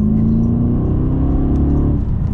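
An Audi RS4 B7 with a Stage 2 tune revs briefly, a close, loud engine note that rises and then falls back over about two seconds with no talking.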